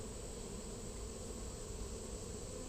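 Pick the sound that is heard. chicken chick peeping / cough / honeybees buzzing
honeybees buzzing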